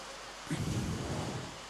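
Rain falls during a local cricket match between Lovestar Yevti and Kusur, a soft continuous wash with a low rumbling swell partway through, distant and faint.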